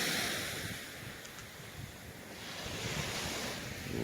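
Gentle ocean waves wash onto a beach in the cold early morning before sunrise, a steady soft hiss of surf mixed with wind noise on the microphone, with no voices.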